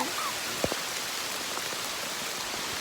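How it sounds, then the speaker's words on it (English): Rain patters steadily on a clear-cut forest corner during deer season, with a soft continuous hiss and scattered distinct droplet hits close by, no talking. "I'm seeing it rain on me right now."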